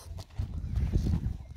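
Horse hooves clip-clop in an irregular series of soft, low thuds as someone goes off to ride, heard close by over steady background noise.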